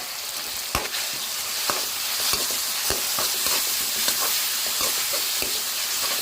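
Tomatoes sautéed with onions and vegetables for palak semiya: a loud, continuous frying sizzle close by, broken by frequent short scraping strokes of a spatula.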